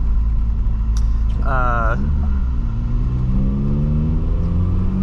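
A 1986 Volkswagen Scirocco 16V accelerates from inside the cabin, a steady mid-pitched engine drone rising as the car pulls, with a short burst of rasping revs early on and someone speaking over it.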